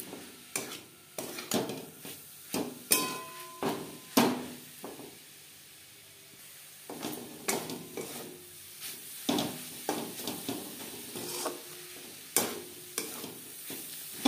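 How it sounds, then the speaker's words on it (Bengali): A coconut and jaggery filling for patishapta pitha is stirred in a pan over a gas flame. A spoon scrapes in repeated close strokes, with a soft sizzle in between and occasional sharper knocks against the pan. "অল্প পাক আসা পর্যন্ত নাড়াচাড়া করে নেব।"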